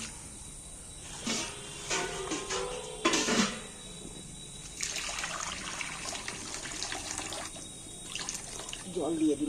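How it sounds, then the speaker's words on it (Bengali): A good splash of water pours into a karahi on a lit stove, giving a bright hissing gush in several separate bursts with short pauses and a faint trickle between them. "জল দিয়ে দিল বেশ খানিকটা"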